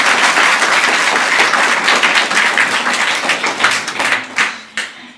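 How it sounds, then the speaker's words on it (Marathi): A large audience at a spiritual satsang gathering claps loudly in sustained, dense applause that thins into scattered final claps. "जर तुम्हाला पटत असेल तर जोरात टाळ्या वाजवा"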